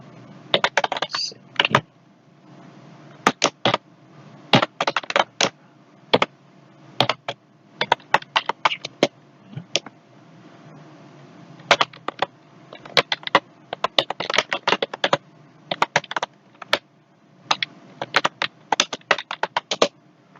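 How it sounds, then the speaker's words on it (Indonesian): Keys clatter on a computer keyboard in irregular bursts of rapid clicks separated by short pauses, close and crisp in a quiet room over about twenty seconds. "Yang harus dilakukan adalah pertama, menekan tombol Tab. Yang kedua, mengetik isinya."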